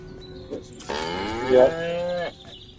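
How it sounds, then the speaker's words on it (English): A cow in the remastered video game Destroy All Humans lets out one long, loud moo that swells in the middle, with brief quiet game sounds before it. "Again with the moo."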